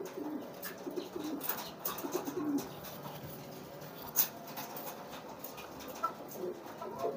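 Pigeons coo softly in a loft or coop, low murmuring calls repeating under a faint background hum, with no voices.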